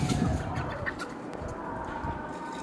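Country chickens cluck and coo softly nearby as they come out of an opened coop, with a few short calls over a steady outdoor morning background; no talking.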